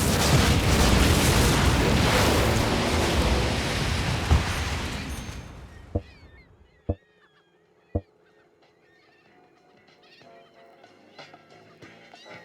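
Buildings are demolished in a city-building video game: a dense rushing crumble fades after several seconds, then sharp isolated booms and a quieter chirpy game soundscape follow.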